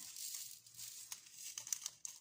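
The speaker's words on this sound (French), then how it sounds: "ouvrir mon sachet, puis je mettrai un peu de scotch pour le fermer" Soft crinkling and tearing of thin plastic as a small packet is pulled open, quiet and close.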